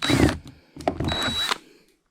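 A power drill cutting a shaving bit through the plastic hull of a kayak, heard in two short close bursts of whirring grind separated by a brief pause.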